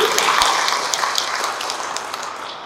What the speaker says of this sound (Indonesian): Tepuk tangan untuk ini.